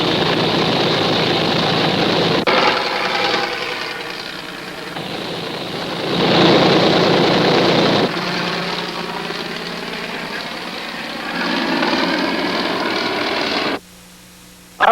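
An old fighter plane's engine drones steadily at an airdrome, loud and continuous with surging swells in intensity before dropping off abruptly near the end.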